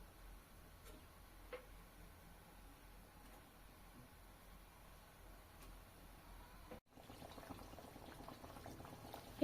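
Nimki dough pieces frying in hot oil in a wok, a faint, steady bubbling hiss that grows louder and busier toward the end.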